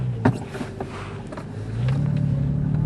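A Porsche 911 pulls away over leaf-covered ground, its engine rising into a steady, loud, close rumble after a brief knock at the start, with no voices.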